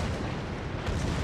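Warship secondary guns fire in World of Warships, a dense, continuous rumble of overlapping booms and bursts with no clear gaps.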